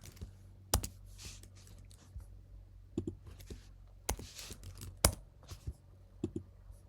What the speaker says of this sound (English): I'm typing the ISNUMBER.